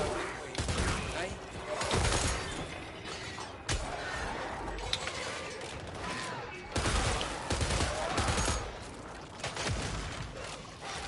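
Pistol gunfire in the co-op shooter Killing Floor 3, repeated shots going off amid dense, loud game action with explosions and clatter throughout, and players talking over the chaos.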